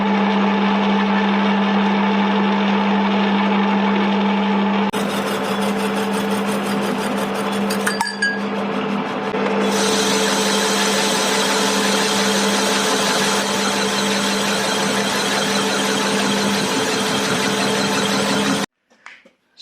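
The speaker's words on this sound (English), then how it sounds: "I'm going to turn this down in the lathe so it's shorter" A metal lathe turns down a part for a Saab B234 turbo engine swap into a UAZ 452, a steady mechanical whir with a cutting hiss that shifts in tone partway through, running continuously before stopping.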